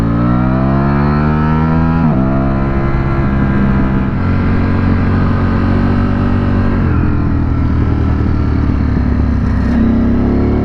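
A Ducati Streetfighter V4 SP2 motorcycle engine revs hard and close, climbing in pitch through several rapid gear changes with sharp drops between them, then settling into a steady, loud roar.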